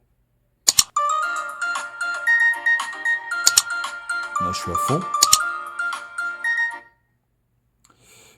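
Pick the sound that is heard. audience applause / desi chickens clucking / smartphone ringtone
smartphone ringtone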